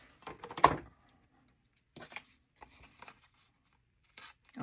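Small scissors cutting through tough paper, giving a few short crisp snips and rustles spaced apart at close range, with no talking.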